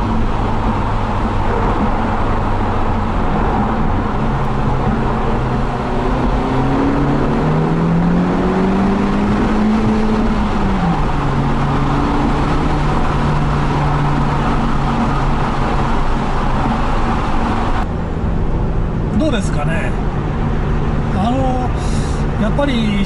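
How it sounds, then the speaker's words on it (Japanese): A Honda Civic's exhaust drones steadily from inside the cabin on a mountain road, its tone rising and falling as the engine revs during acceleration through a six-speed manual. "ちょっとマフラー音聞いてみましょうか"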